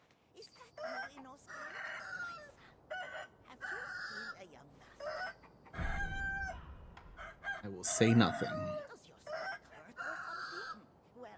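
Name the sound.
rooster crowing in a video game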